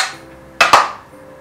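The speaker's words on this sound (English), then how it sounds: "we'll cut this cheddar" Two sharp knife chops close together as a block of cheddar is cut on a board in a home kitchen during a Christmas get-together, with quiet room tone around them.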